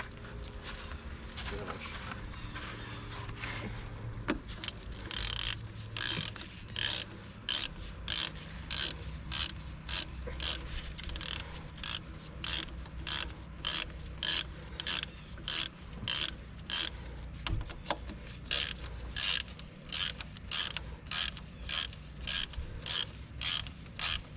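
A hand ratchet works bolts loose on a 1986 Dodge Lancer, its rapid clicking bursts repeating in a steady rhythm close by, with faint talk and shuffling early on.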